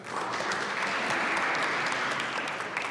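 Sustained applause from a public meeting audience, a steady wash of many hands clapping at a constant level throughout, with no voices over it.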